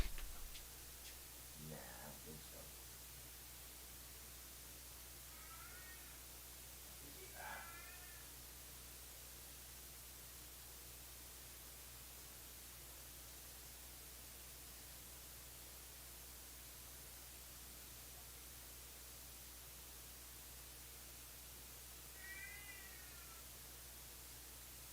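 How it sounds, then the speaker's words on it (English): A cat meows indoors a few times, short faint calls spaced apart at roughly two, seven and twenty-three seconds over a steady low hiss, with long quiet gaps between them. "I thought my other cat's meowing"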